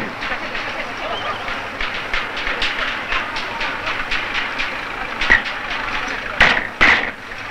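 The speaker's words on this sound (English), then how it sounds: "These trains are called petroleum dragons." A long freight train of oil tank cars rolls past on rails at a 1970s Daqing oilfield, a steady rumbling clatter of wheels with rhythmic clicks and a few louder metallic bangs near the end.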